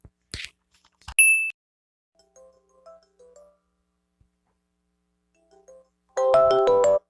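A phone call being placed: a sparse electronic tone blip, quiet gaps, and then a short bright ringing burst near the end, heard alone without talk.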